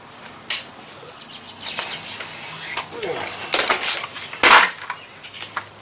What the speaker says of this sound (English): get the knife like this and cut them off